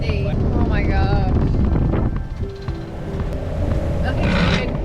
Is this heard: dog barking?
no